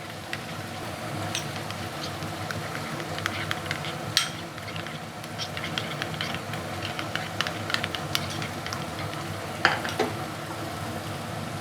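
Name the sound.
masala sizzling in oil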